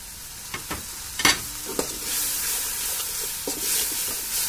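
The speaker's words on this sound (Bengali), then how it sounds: "মশলাটাকে আমি ভালোভাবে কষিয়ে নেব।" Spice paste of salt, ginger-garlic paste and coriander powder stir-fried in a pan for a pickle-style eggplant dish, sizzling steadily with a few sharp scraping strokes of the spoon near the start.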